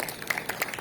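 Applause from an audience at an Indonesian religious gathering in Bone Bolango, a short burst of brisk, scattered clapping at moderate volume.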